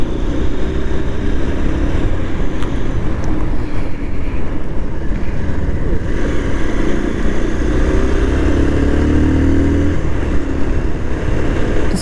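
A Yamaha R15 motorcycle being ridden along the winding hilly road to Sajek. The engine drones loud and close without pause, with a steady rush of wind and road noise and gentle shifts in pitch, and no voices.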